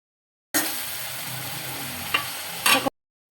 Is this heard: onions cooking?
yes